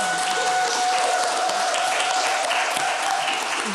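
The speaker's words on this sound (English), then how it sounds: "Give her a round of applause." Audience applause at a panel discussion as an artist and curator is introduced: a brief burst of steady, close, full clapping from the room.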